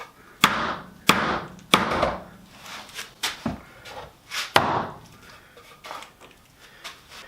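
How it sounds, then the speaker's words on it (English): Hammer striking a chisel to split apart glued timber pieces, a series of sharp, loud wooden knocks at irregular intervals, some ringing briefly, with quieter taps between. "I finally got them apart with a hammer and a chisel."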